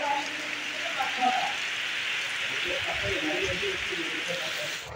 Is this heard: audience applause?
no